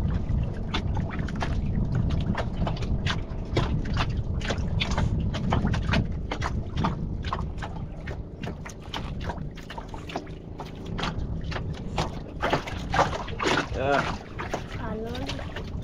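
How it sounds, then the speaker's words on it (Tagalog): A small wooden bangka boat turns on open water, with continuous splashing and lapping close by and a steady watery rush, while people talk over it. "Ikot naman yung bangka."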